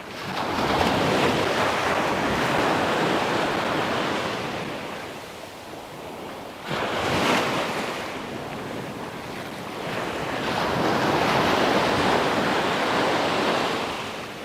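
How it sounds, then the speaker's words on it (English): Ocean surf at Phala Beach, Thailand, with waves washing in and receding in broad, loud swells and a constant roar, mixed with wind buffeting the microphone and no voices. "We are in the surf, guys."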